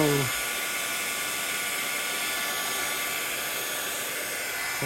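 A heat tool drying alcohol ink on a handmade card blows as a steady, loud, close whirring roar that holds for the whole stretch.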